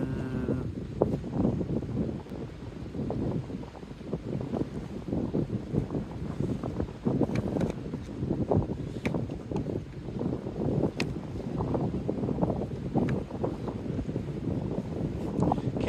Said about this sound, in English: It's a lot windier than I was expecting it to be.